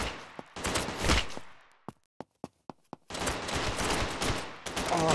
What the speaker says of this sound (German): habe ich einfach nur geballert.